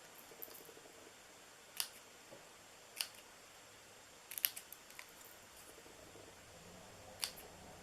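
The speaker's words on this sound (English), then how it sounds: "I think I need to cut this a little closer here" Scissors snip card stock for a Christmas card in a quiet room, a handful of sharp, separate cuts spaced a second or so apart, close and faint.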